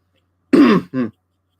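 Two short, close coughs in quick succession, the first longer and rougher, with silence before and after.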